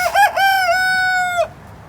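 A rooster gives one clear, close crow lasting over a second, rising then holding a long drawn-out note before cutting off, with no talking.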